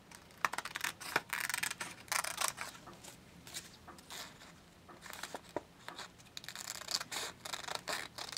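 Scissors snip away excess material in a craft project, making a quick series of close, crisp cuts with rustling and scraping of the material between them.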